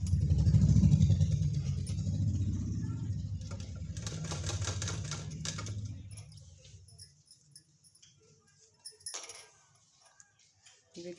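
Sewing machine stitching piping onto trousers, a rapid mechanical rattle that runs steadily for several seconds then fades out, followed by a few soft clicks and handling taps.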